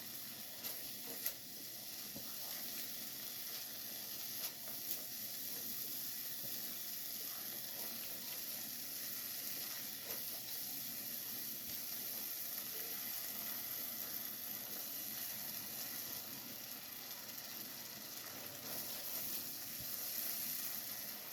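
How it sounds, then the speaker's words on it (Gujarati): Spice mix of gravy masala and salt sizzles steadily in a pan while cooking for palak paneer, a continuous close hiss with no voices. "બધું મિક્સ કરીને આપણે મસાલાને થોડા ચડવા દઈશું."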